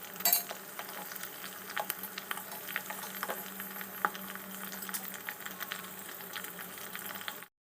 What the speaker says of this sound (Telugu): సో లో ఫ్లేమ్లో మనం ఆయిల్ని ప్రిపేర్ చేసుకోవాలి